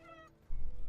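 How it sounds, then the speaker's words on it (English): A cat meows once, a short tonal call with clear harmonics, up close and alone, followed by low rumbling handling or background noise. "See, even Kitty is telling you off"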